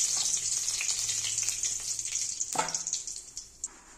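Cumin seeds and bay leaves hit hot oil while eggs and potatoes are being cooked for a Bengali egg curry, giving a bright, continuous sizzle with scattered crackles and a few clinks that fade gradually.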